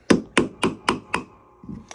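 Five sharp, evenly spaced hammer blows strike a heavy metal skull ring during sizing, with a ringing clang, followed by two lighter taps after a brief pause.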